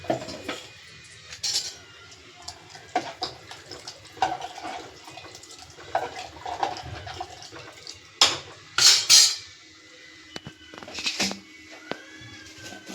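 Water poured into a pan while brinjal bartha cooks in a home kitchen, a close, uneven splash and trickle in short bursts, with clinks of utensils and louder gushes midway.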